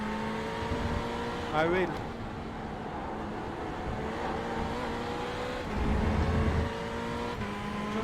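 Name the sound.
Ferrari GT3 race car engine in iRacing video game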